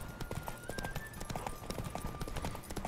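Horse hooves clip-clop at a gallop in The Witcher 3, a steady rapid rhythm of close, loud hoofbeats over game ambience, with a faint whinny.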